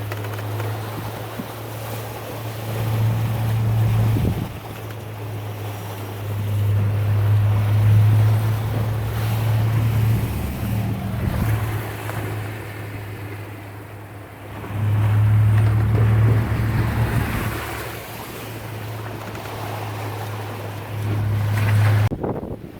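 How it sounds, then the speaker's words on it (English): Rough waves slap against a shanty boat in strong wind, with a steady low motor hum underneath and surges of water and wind buffeting throughout, loud and close. "enough that I can let the waves kind of hit me from the side"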